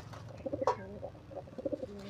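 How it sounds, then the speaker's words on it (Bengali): A baby pigeon gives soft, low cooing notes up close, a few short warbling bursts spread over a couple of seconds, quiet and alone. "এটা বাচ্চা পায়রা"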